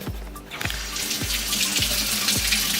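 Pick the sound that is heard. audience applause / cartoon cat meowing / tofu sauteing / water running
water running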